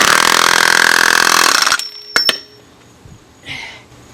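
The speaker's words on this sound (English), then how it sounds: "put the gun on it. We're going to torque it down." An impact gun torques down the clutch on a Yamaha Grizzly 450 ATV, a loud, steady rattling burst lasting almost two seconds that stops abruptly, followed by a few sharp metallic clinks and a brief whirr.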